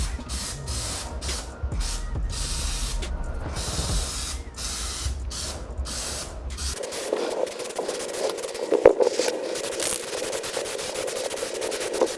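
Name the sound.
spraying Plasti Dip from a rattle can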